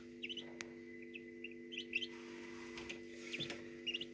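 Young muscovy ducklings peep in soft, repeated high chirps under a heat lamp, close and faint over a steady electrical hum.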